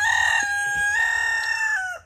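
A rooster crows once, a loud, clear, drawn-out call close by that fades at the end over faint background rumble.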